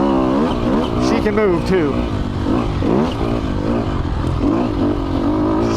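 A 2020 Sherco 300 SEF Factory dirt bike engine revs in rising and falling bursts as the bike moves off-road, with a voice talking over the engine throughout.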